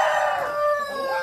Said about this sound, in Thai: นี่ไก่ไทยนะครับ